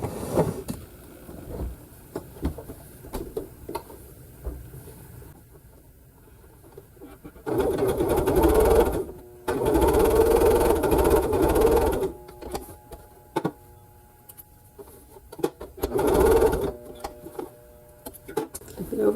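A sewing machine stitches a Christmas sampler quilt block in two steady runs of a few seconds each. Quiet talking fills the gaps before and after the runs.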